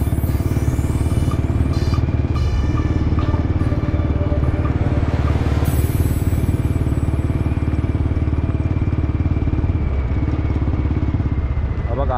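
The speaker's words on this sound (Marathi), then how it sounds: "ही काय आहे ती आपली बाईक" A motorcycle ridden at night along an unlit road: a steady, loud engine drone with rushing wind and road noise runs unbroken throughout.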